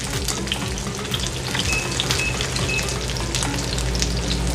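An egg fries over easy in a pan, giving a steady, dense sizzle and crackle that stays loud and even throughout with no talking.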